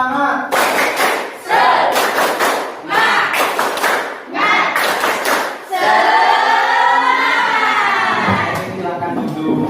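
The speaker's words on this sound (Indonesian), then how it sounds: "Oke, tepuk semangat." A school class does a rhythmic spirit clap in unison, with four loud bursts of patterned clapping followed by a sustained group shout.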